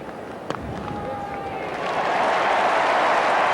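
A Melbourne cricket crowd applauds a batsman reaching fifty during the 1995–96 World Series Cup. The broad clapping and crowd roar swell after a quiet start and build to a loud, sustained wash.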